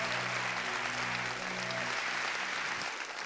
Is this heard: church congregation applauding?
yes